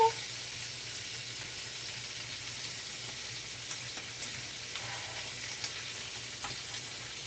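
A thickening sauce bubbles and sizzles softly in a pan on a home kitchen stove, a faint, steady hiss with a few small pops and light scraping of stirring.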